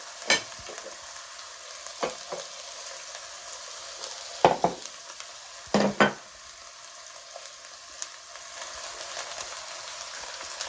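Garlic fries in the center of a pan of nearly cooked ground beef for keto stroganoff, a steady close sizzle broken by a few sharp spatula scrapes and stirs, with no talking.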